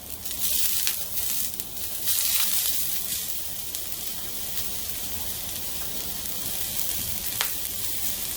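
Broccoli frying in hot oil sizzles in a continuous close hiss, swelling louder in the first few seconds before settling into an even crackle.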